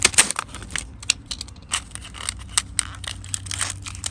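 Plastic and cardboard packaging for Char-Griller Grand Champ XD offset smoker parts gets cut and torn open, giving irregular close crinkles, crunches and sharp snips in quick bursts.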